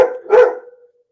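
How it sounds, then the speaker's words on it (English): A pet dog gives a quick pair of loud, close barks, the second one fuller, then falls quiet with no voices. "Sorry if you can hear the dog barking."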